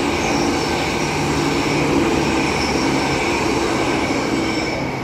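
EMU 107 leads a six-car commuter train past on Eddystone Avenue, a steady close rumble of wheels on rail with faint squealing and a broad hiss that stays loud throughout, no voices.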